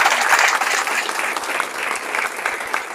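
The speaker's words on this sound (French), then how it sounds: "si vous pouvez renouveler les applaudissements" Steady applause from a crowd at a press conference, many hands clapping densely and evenly at moderate loudness throughout.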